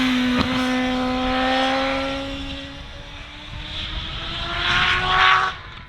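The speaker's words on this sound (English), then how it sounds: "everyone talks about that Suzuki howl" A 2020 Suzuki GSX-R1000R sportbike with a 202-horsepower engine holds a steady, loud, buzzing drone. Its pitch climbs smoothly as the revs build, swells to a peak near the end, then cuts off abruptly.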